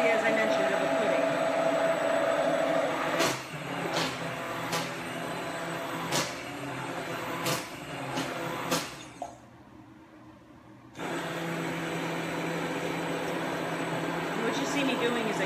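Immersion blender whirring through soap batter as it thickens to a pudding-like consistency, a steady motor hum with clunks as it is tipped and moved, cutting off briefly before restarting, under a voice.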